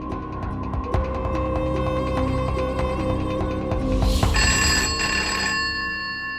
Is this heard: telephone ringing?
yes